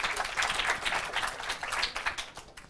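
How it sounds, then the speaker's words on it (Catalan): A studio audience at a Catalan TV quiz show applauds a contestant, dense, steady clapping that holds for a few seconds before thinning toward the end. "un aplaudiment per ell, sisplau"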